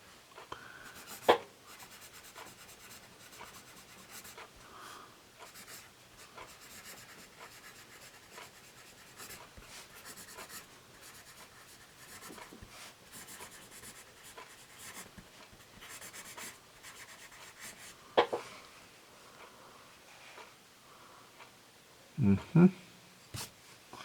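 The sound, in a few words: writing with a Generals Semi Hex 3B drawing pencil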